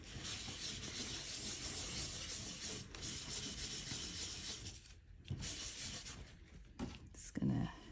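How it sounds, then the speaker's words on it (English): Steady rubbing of a blending tool over paper while colour is worked into a handmade holiday card, a continuous soft scratchy texture close by with a few brief handling bumps near the end. "rub some more over here, get this all blended in"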